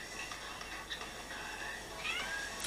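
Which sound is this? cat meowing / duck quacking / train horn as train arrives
cat meowing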